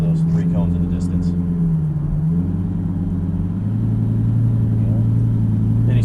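A Lamborghini creeps away slowly in first gear, its low engine rumble steady and close, dipping then rising gently, with a person's voice faintly talking over it at moments.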